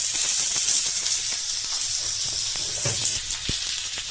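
Curry leaves crackle and sizzle in hot oil while tempering for pineapple rasam, a steady bright hiss with scattered pops, close and continuous throughout.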